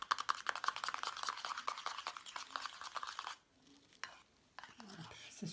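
Homemade mascara with phytokeratin stirred in a small container, a quick scraping, whisking patter that runs steadily and close, then drops away into near silence with a few faint taps and a soft voice at the end.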